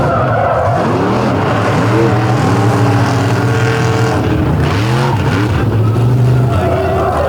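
Monster trucks racing at night at Lake Erie Speedway, loud engines revving and rising in pitch through gear changes, with tire noise and a roaring crowd-filled atmosphere throughout.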